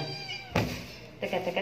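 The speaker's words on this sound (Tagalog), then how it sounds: "Kuting pa po to." A kitten gives two short, close meows a moment apart, with quiet background between them.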